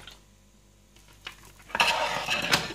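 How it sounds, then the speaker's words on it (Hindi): Oil poured into a frying pan for stuffed masala eggplant, a faint clink of metal giving way to a rising, close sizzle and crackle over the final second, with no talking. "अब मैं फ्राई पैन में तेल डाल रही हूँ"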